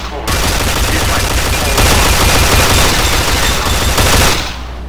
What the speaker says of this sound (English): its X-25 Gatling laser, produced to spec by Glassinghouse Inc., is deadly against soft targets at medium range